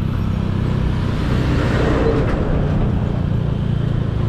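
Trucks rumble along a rural road in Nueva Ecija as a 125cc motorcycle overtakes them, a steady, close, heavy traffic roar with wind noise and no pauses.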